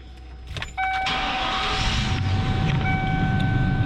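A 1994 Lincoln Town Car's Ford 4.6 liter V8 cranks briefly and catches, settling into a steady, loud idle from inside the cabin, with a high chime tone sounding over the engine.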